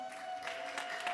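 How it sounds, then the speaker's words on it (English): Brief applause from a synagogue congregation on Shabbat for the congregation president as his name is called, a short patter of clapping that is fairly faint. "It only took 3 years for him to get applause after his name is called in the synagogue"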